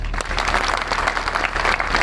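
Audience applause for a sanitation worker who swept the road in the rain, dense steady clapping from a crowd filling the whole stretch at even loudness, with no voices standing out.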